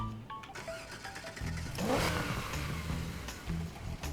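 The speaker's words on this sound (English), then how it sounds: "I really like the rattling sound of the engine." A 1955 Chevy Bel Air engine in Need for Speed Heat rattles and revs steadily at close range, its rough idle climbing briefly before settling, with no voices over it.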